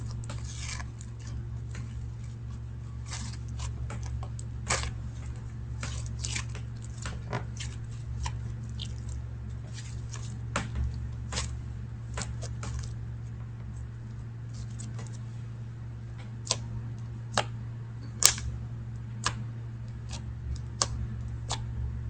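Soft, wet squishing and small popping clicks of slime being kneaded, quiet and close, over a steady low hum with scattered sharper pops.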